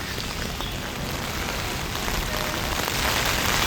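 Heavy rain pours down outdoors in Jaffna, making a dense, loud, continuous hiss of drops beating on surfaces that grows slightly stronger toward the end, with no voices.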